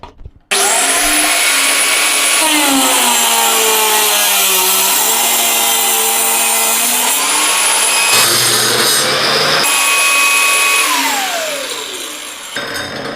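An angle grinder mounted on a stand, fitted with a Pumpkin multipurpose blade, cuts through pipe with a loud continuous high whine, its pitch sagging and rising under load, briefly dipping mid-cut, then spinning down at the end.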